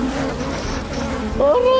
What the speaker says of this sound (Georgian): მეფუტკრემ დააფრთხო ველური ფუტკრები, რაც იმას ნიშნავდა, რომ ისინი ჩვენსკენ დაიძრებოდნენ